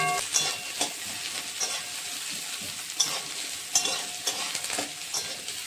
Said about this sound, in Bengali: এগুলো দিলাম, পেঁয়াজ রসুন, এগুলো সুন্দর করে ভাজা হবে